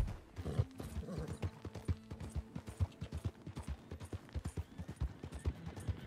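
Horse hooves clip-clop steadily in Red Dead Redemption 2, a Wild West open-world game, with a brief whinny early on, near and moderately loud against faint ambient background.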